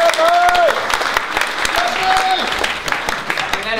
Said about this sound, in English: let's give a big round of applause to Mike and Freedom Forum for bringing me he